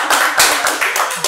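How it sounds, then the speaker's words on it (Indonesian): A few people clapping hands together after a podcast discussion in a studio, a short burst of close, bright, uneven claps lasting about a second with no one speaking. "Tepuk tangan dulu."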